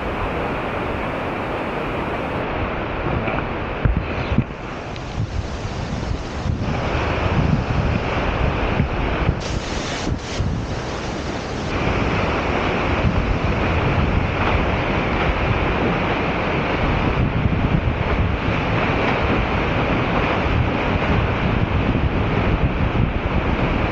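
Latourell Falls plunges down a basalt cliff, a broad continuous roar of falling water with gusts of wind buffeting the microphone throughout.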